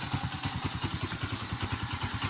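An idling Kawasaki Bajaj CT 125 motorcycle engine with an oil leak and carbon-clogged exhaust runs close by, thumping in a fast, slightly uneven rhythm with rattly clatter, alone without talk.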